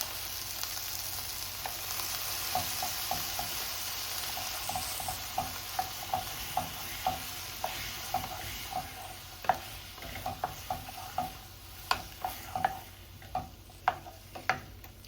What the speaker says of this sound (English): we're going to let the tomato paste cook down a little bit